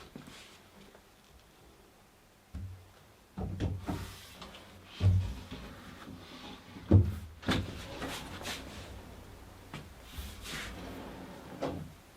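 A wooden drawer slides into its cabinet during a fit check, giving a few soft scraping slides and quiet wooden knocks and bumps, close by, with no talk.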